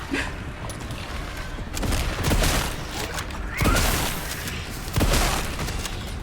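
A grenade goes off in Resident Evil 9 inside a hospital, with several heavy booming blasts and crackling debris rising out of a noisy, chaotic fight at moderate loudness.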